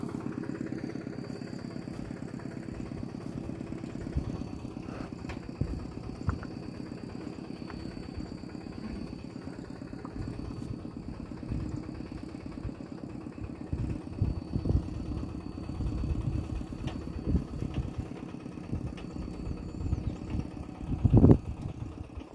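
A farm plough tractor's engine chugs low and steady, idling throughout, with occasional clatter and a louder knock near the end, no voices.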